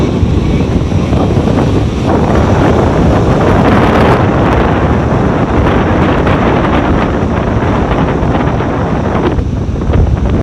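Strong wind buffets the microphone over a broad, steady roar of high waves breaking on a sandy beach, loud and continuous throughout with no voices.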